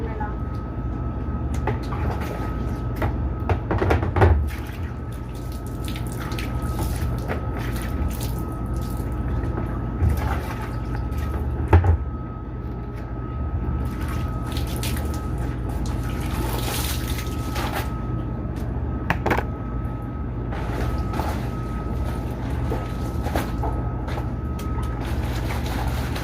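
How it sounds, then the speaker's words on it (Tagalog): A twin-tub washing machine's spin dryer runs with a steady, droning low hum throughout, broken by a couple of soft thumps. "Dryer na lang."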